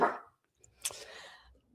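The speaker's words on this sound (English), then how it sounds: "the dachshund's barking." A dachshund lets out a couple of short barks indoors, fairly faint and a little distant, separated by a brief silence.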